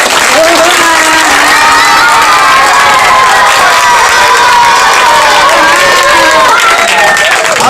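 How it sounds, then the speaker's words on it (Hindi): Loud crowd cheering and applause at a Bhiwandi political rally, with shouting voices and sustained clapping filling the whole stretch, dense and continuous without pause. "जोरदार तालियों के साथ।"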